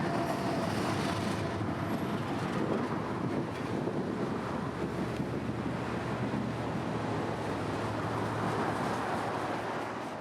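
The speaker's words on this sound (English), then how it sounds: "Now 452 is general freight out of Hialeah and Wildwood, always with a sizable cut of auto racks from Palm Center." CSX freight train 452, general freight with a large cut of auto racks, rolls past on the S-Line near Ocala, a steady loud rumble and wheel roar filling the whole stretch with wind buffeting throughout.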